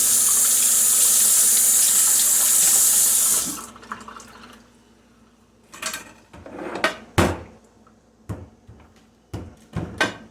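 Fruit rinsed under a running kitchen tap for mead making: a steady loud rush of water for about three seconds, then quieter handling with sharp clinks and knocks of fruit and dishes in the sink.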